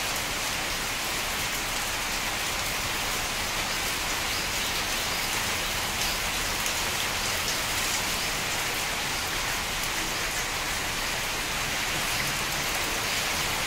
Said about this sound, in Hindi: ये देखो जबरदस्त बारिश हो रही है।